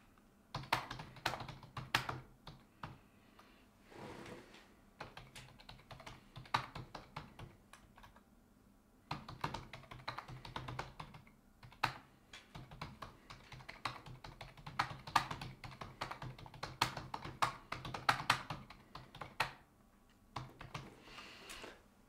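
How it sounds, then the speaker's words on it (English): Rapid typing on a computer keyboard, with bursts of close, crisp key clicks broken by brief pauses, alone and without any talk. "Let's do some typing."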